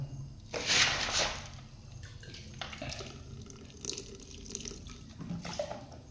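Water is poured in a small amount, a steady splashing trickle with a louder gush near the start, then a softer continuous flow and light drips, fairly close and without talk.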